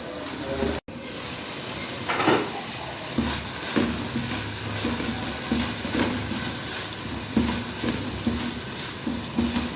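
Chicken frying in a pan while making pasta, a steady close sizzle with occasional stirring scrapes and clinks, after a brief dropout near the start.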